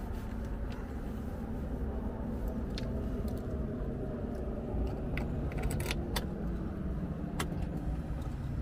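Keys jangle near a new 2022 Polaris Pro XP Sport side-by-side, a few bright metallic jingles rising over a constant low rumble of vehicle or engine noise, with no talking.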